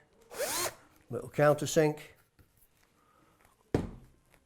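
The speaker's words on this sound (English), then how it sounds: "Don't want the wood stripping out when the screw goes in, so little countersink." A power drill cuts a countersink into guitar body wood for a screw: short, close whirring bursts rising and falling in pitch, with brief pauses between passes and no talk.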